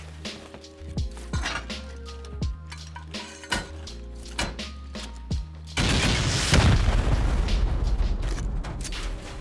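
Rockets exploding during a solo raid on a rock bunker in a survival video game, first a run of sharp separate blasts and metallic clanks over a droning tonal bed, then a sustained loud rumbling roar of debris and explosion noise.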